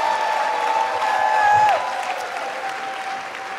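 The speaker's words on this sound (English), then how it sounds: "Let's give them a big round of applause" Audience applause for the coordinating team at a Christian gathering at the New Wine Temple, a steady wash of clapping that runs the whole time under a faint tonal background.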